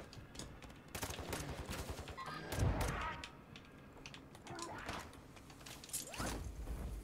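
Video game gunfire crackles in rapid bursts throughout, with heavier booming shots in the middle and near the end, mixed with in-game clatter and no talking.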